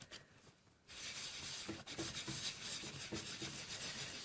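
Tissue rubbed across an embossed, stamped card image to lift excess ink off the embossing powder, a steady papery swishing that runs close and alone for several seconds after a quiet start.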